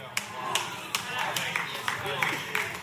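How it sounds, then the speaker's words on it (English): A few audience members at a sermon clap in a steady, moderately paced rhythm. The claps are fairly faint and sound beneath ongoing speech. "For the 4 of y'all who are clapping"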